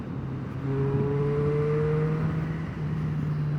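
A 2024 Triumph Street Triple motorcycle engine drones steadily while riding, its tone dipping and shifting with a gear change partway through, under constant wind noise and without speech.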